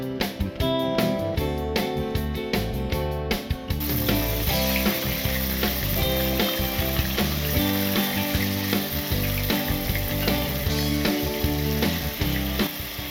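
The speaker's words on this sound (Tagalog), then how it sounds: "Nagpainit na tayo ng mantika kaya ready na para iprito ang ating beef steak" Marinated beef steak, soaked in soy sauce and lemon, fries in hot oil with a dense, continuous crackling sizzle; the opening seconds carry sharp rhythmic clicking, and tonal music plays underneath throughout.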